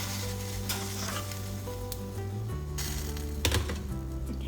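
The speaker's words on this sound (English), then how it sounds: "shut up, stop sizzling." Spaghetti fries in butter in a hot pan, giving a steady close sizzle with faint stirring clicks and a low hum behind it.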